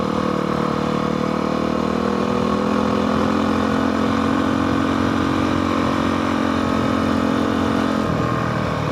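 A motorcycle engine idles steadily and loudly up close, a continuous rumbling drone with a slight shift in tone near the end.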